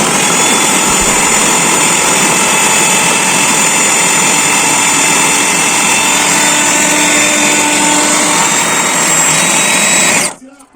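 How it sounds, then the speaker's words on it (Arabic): A blender motor whirs loudly and steadily with a high, piercing whine for about ten seconds, then cuts off abruptly. "طبعا انا بفصل وبسيب لكم صوت الخلاط وصوت الميه"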